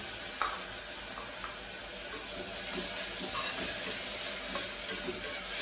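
Tomato and green chili paste sautéing in a pressure cooker while ghee rice and veg kurma are made, giving a steady sizzle with occasional stirring scrapes throughout, moderately loud and without speech.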